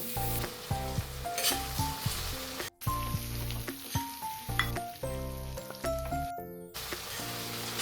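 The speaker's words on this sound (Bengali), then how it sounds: "এবার কেটে রাখা লাল হলুদ আর সবুজ ক্যাপসিকামটাও এর মধ্যে দিয়ে দিলাম দিয়ে একটু নাড়াচাড়া করে নেব" Sliced red, yellow and green capsicum sizzles in a hot wok, with a steady frying hiss broken by repeated scrapes and clinks of a spatula stirring, close and clear, with no talk.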